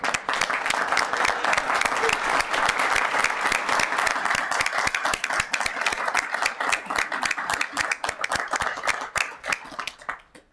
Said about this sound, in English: a round of applause for these businesses.